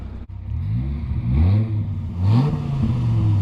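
A 2004 Dodge Viper SRT10 engine revs and accelerates while the car is driven with the top down, rising and falling in pitch with a low rumble that grows louder across several pulls.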